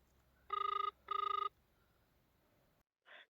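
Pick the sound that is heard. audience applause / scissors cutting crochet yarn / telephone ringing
telephone ringing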